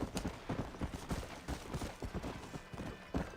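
Horse hooves in a video game clip-clop in a quick, steady rhythm of soft, even beats that run through the whole stretch at a low, moderate level.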